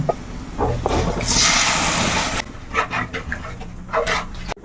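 Water poured into a sardine curry: a loud, rushing splash of liquid for about two seconds, then quieter bubbling and light clinks of the pot.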